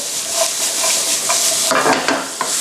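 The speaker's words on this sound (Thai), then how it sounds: "เราจะผัดไปเลยครับ ใช้ไฟร้อนจัดจัดเลยนะครับ ผัดให้นิ่มเลยคุณผู้ชม" Large shallots stir-fried over very high heat in a hot pan, a steady sizzle with a utensil scraping and clinking against the pan, close up and with no talking.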